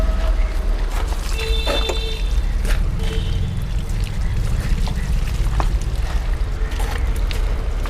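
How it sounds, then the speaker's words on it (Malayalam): Water poured onto a polished marble slab gives a continuous splashing, trickling wash with scattered clinks and a low rumble beneath, steady throughout. "കുറച്ച് വെള്ളം ഒഴിച്ചാൽ"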